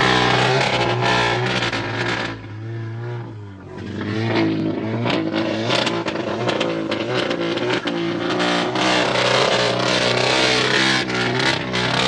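A Lamborghini launches hard, its engine roaring loud and close, easing briefly before surging into sustained, harsh acceleration that fills the rest of the stretch.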